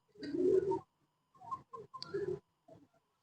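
Golden pigeons coo up close: a long throaty coo, then several shorter soft burbles with quiet gaps between them.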